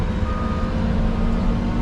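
Steady, loud reversing alarm from a dump truck on a demolition and stump-removal job, its beeps repeating without pause over a low engine rumble throughout.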